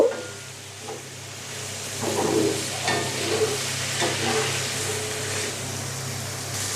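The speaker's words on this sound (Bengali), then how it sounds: "এখন আমি দিয়ে দিচ্ছি ক্যাপসিকাম। আমি পুরোপুরি একটা ক্যাপসিকাম ব্যবহার করেছি এখানে। এখন আমি এটাকে একটু ভেজে নেব।" Green chilies and capsicum fry in a pan with a continuous hiss and sizzle, broken by a few stirring scrapes and soft bursts that swell midway.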